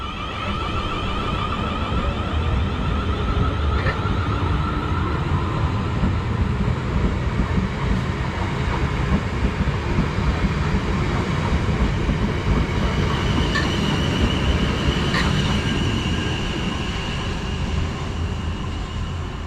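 A triple-unit Class 450 electric train pulls out of Botley station on the Eastleigh to Fareham line. It gives a loud, continuous rolling rumble with faint wheel squeal and rail clatter throughout.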